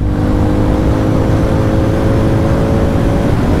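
Hero Mavrick 440 motorcycle accelerating through the gears, a loud, close, continuous engine drone with rising tonal whine and no talk.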